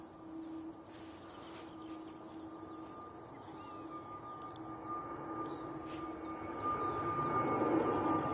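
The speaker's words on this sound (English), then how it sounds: "We've got this EasyJet now departing." EasyJet airliner departing Manchester Airport for Rome, its jet engine roar steady and broad, slowly building louder toward the end, with a sustained whine and drone and no talking.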